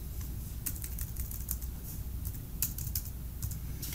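Typing on a computer keyboard, a fairly quiet steady patter of key clicks with a few sharper taps, close and alone over faint room hiss.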